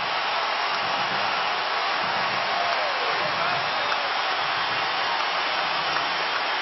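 Thunderous, continuous roar from fans filling the American Airlines Center during a Mavericks–Lakers playoff fourth quarter, a dense, even hiss of cheering with no breaks.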